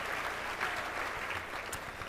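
Audience applause at a MusiCares benefit event, a dense, steady wash of clapping from a large crowd that holds at an even level throughout, with no voices over it.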